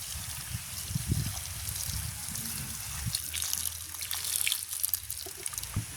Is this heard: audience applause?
no